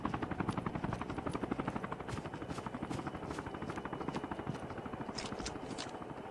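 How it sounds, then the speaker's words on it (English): A helicopter in a video game arrives with a supply airdrop, its rotor giving a steady, rapid chopping throb that stays loud and close throughout, with brief faint high clicks near the end. "I hear a chopper."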